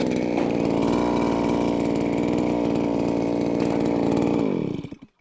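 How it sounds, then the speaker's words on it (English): A gas-powered auger bores through lake ice on a frozen lake, its motor buzzing loud and steady at close range before winding down and cutting off near the end. "When I'm drilling holes, I place them about 4 feet apart from each other"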